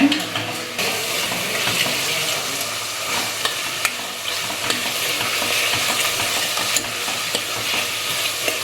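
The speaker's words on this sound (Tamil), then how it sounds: "இப்போ வந்து இஞ்சி பூண்டு வதங்கிடுச்சு" Ginger and garlic sauté in a pan with a continuous, fairly loud sizzle and stirring scrapes close by, and a little faint talk in the background.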